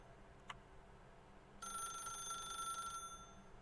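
An old-fashioned telephone bell rings in The Stanley Parable, one trilling ring of about a second and a half, faint against quiet room tone after a small click.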